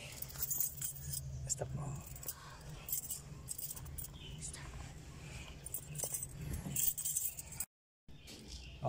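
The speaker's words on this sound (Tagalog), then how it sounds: "I-on ko yung susi." Car keys jangle and clink in a Toyota Vios Gen 2 as the ignition is switched on during a charger socket install, small metallic rattles close by while someone speaks quietly.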